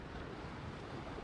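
Ocean waves wash steadily over the lava rock pools on the Azores coast as the tide comes in, a continuous broadband rush of surf with some wind and no voices.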